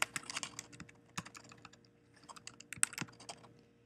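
Quick, light clicks of typing on a computer keyboard while entering account details, irregular bursts of keystrokes with short pauses, close and quiet.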